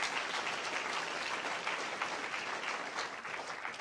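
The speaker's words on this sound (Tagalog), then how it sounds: "wag po natin bitinin yung palakpak ni ate para kay Lord" A church congregation claps in sustained, even applause, moderately distant and steady, with no talk over it.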